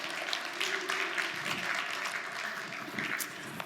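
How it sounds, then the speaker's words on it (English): An audience at a conference keynote applauds, a busy spread of clapping with uneven bursts that swells and eases over a few seconds, heard at moderate volume. "give him a round of applause."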